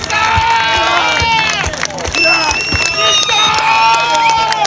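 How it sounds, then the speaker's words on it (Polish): A crowd at a gig cheers loudly, with shouts, whoops and whistle-like calls over scattered clapping. The noise rises and falls in swells and carries on throughout. "wielkie, wielkie brawa dla niego"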